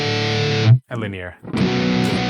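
Electric guitar played through a Blackstar AMPED 1 amp on its linear setting, a sustained distorted, muffled tone with a brief gap mid-way before the chord rings again, loud and close.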